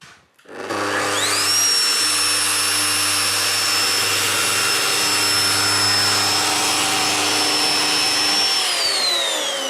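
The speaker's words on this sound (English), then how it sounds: "The groove was milled successfully." Festool FP 1200 router milling a groove into plastic, a loud, close high-pitched whine that spins up fast, holds steady under load, then winds down at the end.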